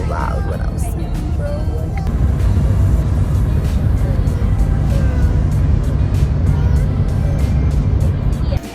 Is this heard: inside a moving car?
yes